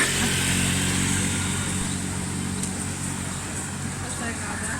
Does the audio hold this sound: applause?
no